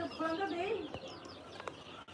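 Young Misri and Tiger breed chicks peeping and chirping close by on a poultry farm, with a few clucks and a faint voice in the background.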